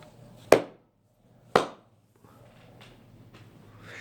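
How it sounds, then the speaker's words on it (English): Two sharp, loud hand claps about a second apart, each standing alone against a quiet room with faint low hum, followed by soft rustling. "this is the sound of the clap"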